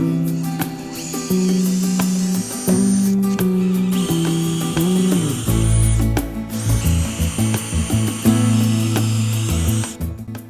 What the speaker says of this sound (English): I'm going to take my large drill bit and I'm going to go right through the hole